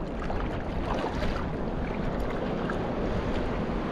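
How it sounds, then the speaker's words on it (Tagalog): Strong wind buffets the microphone at the seashore, where people are out hunting for sea snakes, giving a constant loud rumbling roar mixed with the wash of the sea, with no one speaking. "Sobrang lakas po ng hangin ngayon yun."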